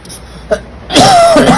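A brief throat-clearing cough sounds close to the mic, followed by a short pause and then a voice starting to talk.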